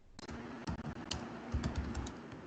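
Steady close typing on a computer keyboard, a run of quick light key clicks with a few louder taps and brief pauses, with no voice.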